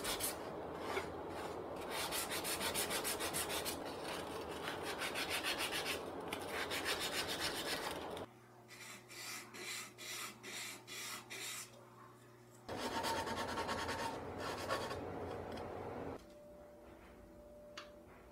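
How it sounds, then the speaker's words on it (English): Wooden dice tower internal components and walls are sanded by hand before glue-up: steady rasping strokes fill the first eight seconds and resume later, with a brief run of short rhythmic rubs in between, close and fairly loud. "first I'll sand the internal components and tower walls"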